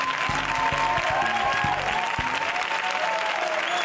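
Studio audience applauding steadily at a television show taping, a dense, continuous wash of clapping from start to finish with faint low thumps in the first half.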